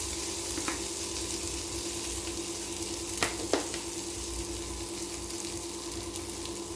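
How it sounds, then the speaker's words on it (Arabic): Rice sautés with spices in a hot pan, giving a steady low sizzle and crackle with a couple of sharp clinks from stirring partway through, and no voices. "هبتدي انزل بالرز بالشكل ده. دلوقتي اديله تشويحه معاه"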